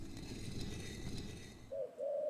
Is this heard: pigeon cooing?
yes